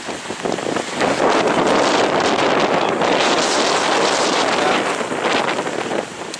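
Strong wind batters the paragliding venue of the PON XXI games in Aceh. It makes a loud, continuous roar and buffets the microphone throughout, with no voices heard.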